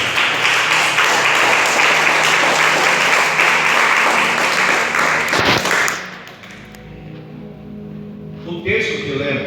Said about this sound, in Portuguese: desocupando as suas mãos, aplaudindo Jesus bem forte